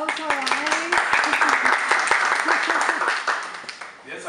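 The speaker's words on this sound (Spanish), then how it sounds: "Vamos a dar un aplauso a Dani." Audience applause at a youth district directors' recognition ceremony, a steady dense wash of clapping lasting several seconds, with a voice talking over it near the start.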